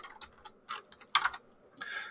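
Quick clusters of keystrokes on a computer keyboard, close and fairly quiet, with short pauses between bursts and no talking.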